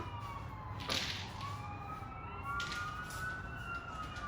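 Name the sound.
sirens outside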